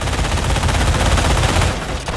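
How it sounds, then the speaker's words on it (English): Half-track's mounted machine gun in a video game firing a long rapid stream of loud, close shots, rattling continuously for about two seconds before easing off. "they add additional firepower to the half-track's own machine gun"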